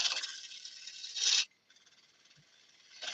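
A woodturning gouge cuts a yew bowl on a lathe near a hard knot, giving a steady, close rasping hiss that stops abruptly, resumes more quietly, then swells again.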